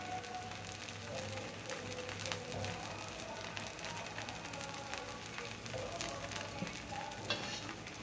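Vegetable bread toast sizzles steadily in a hot pan, a soft, continuous frying crackle heard close up at low volume with faint incidental clinks.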